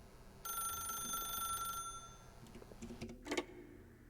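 A telephone rings in The Stanley Parable. A bright, steady electronic ring holds for about a second and a half, then fades into quiet room tone, followed by a few soft clicks and a short thump near the end.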